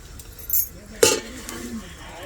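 A metal cooking pot for veg biryani is set down with a single sharp clank, followed by faint clinking and a soft voice in the background.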